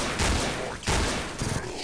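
Rapid revolver-style gunshots from flare revolvers in a competitive team shooter match, several sharp bursts in quick succession, loud and close, with dense mixed game noise between them.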